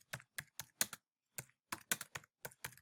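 Keys on a computer keyboard are tapped in a quick, uneven run of about a dozen crisp clicks with short pauses between, close and fairly quiet against a silent background.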